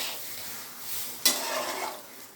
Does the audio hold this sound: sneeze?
no